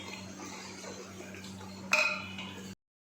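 Chickpea curry gravy stirred in a pan, a soft scraping clink of a utensil against metal standing out briefly over a steady low hum, otherwise quiet kitchen sounds.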